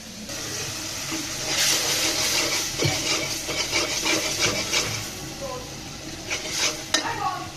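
Spice paste sizzling and being stirred with hilsa fish and eggplant in a pan, a steady frying hiss with scraping and clinks of the utensil against the pot, and no talk.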